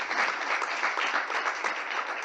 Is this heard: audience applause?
yes